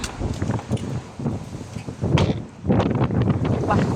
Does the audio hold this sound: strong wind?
yes